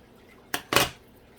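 Scissors snip the corners off a small dollhouse photo frame: two sharp, close cutting clicks in quick succession against a quiet background.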